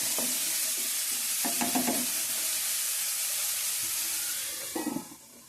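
Onions frying in a pan for a raw cashew and drumstick curry, a steady dense sizzle with a few spoon scrapes and stirs breaking through, close and fairly loud, no talking.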